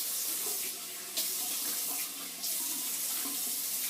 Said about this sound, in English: now I perform a hot water rinse